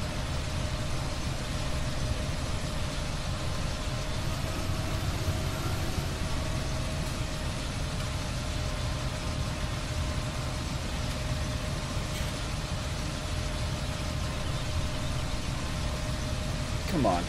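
Tractor engine running in Farming Simulator 17, a steady low drone with a faint tonal hum that holds throughout, muffled and continuous.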